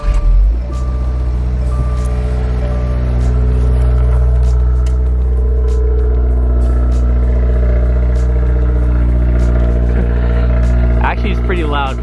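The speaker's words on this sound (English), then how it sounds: "Cold start in the Subi," Stock Subaru WRX engine idling after a cold start, a loud, deep, steady drone with a strong low hum throughout and a few sharp clicks on top, and a voice briefly heard near the end.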